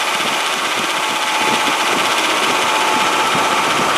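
A 1998 GMC truck's AC compressor runs with the engine on in a shop, a loud, steady mechanical drone with a faint rhythmic vibration throughout, no voices.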